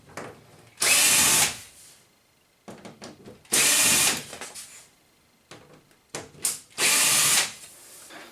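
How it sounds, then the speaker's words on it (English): A power drill unscrews screws from a projector television in three loud, separate bursts of whirring, each about a second long, with quieter clicks and handling noise between them. "Got a couple of screws to unscrew first."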